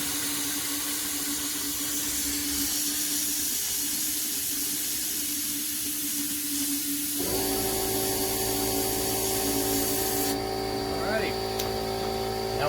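Compressed air from an air compressor hose hisses through the water lines of a vintage Gulf Stream cruiser camper during winterization, a steady loud spray that turns harsher and fuller midway, with faint talk over it.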